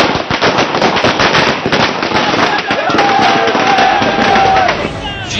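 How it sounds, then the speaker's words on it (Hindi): Firecrackers burst in rapid, dense crackling volleys at a political victory celebration in Maharashtra, loud and close, mixed with crowd noise and chanting throughout. "पटाखों की गूंज और नारेबाजी के शोर के बीच"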